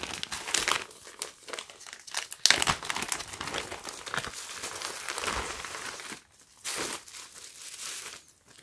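Crinkling plastic bag from clothing packaging for a Palace Remy XO long-sleeve tee, handled up close with continuous dense rustling and crunching that pauses briefly before resuming.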